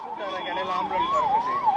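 An ambulance siren wails close by, sweeping steadily up and down in a loud, continuous cycle over background noise and passing traffic.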